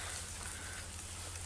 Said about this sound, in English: out of the rain, which has been non-stop all day